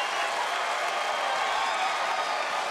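Crowd at the 2009 American Grand Prix strongman event applauding a world record lift, a dense, even wash of clapping and cheering sustained throughout at moderate volume.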